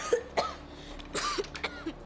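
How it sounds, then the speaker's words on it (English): Several dry coughs and throat clearings from a person in a scene of the horror film The Conjuring 2, spaced in short bursts over a quiet indoor background with no talk. "just to let your mom know that you are sick by putting that cough in there"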